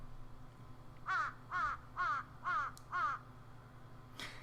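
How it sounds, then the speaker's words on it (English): Crows caw five times in an even rhythm at dusk, each call harsh and clear over a low steady background hum, with a brief higher squawk following after a pause, as a twilight sound effect in a visual novel. "the squawking of birds returning to their nests fill the air"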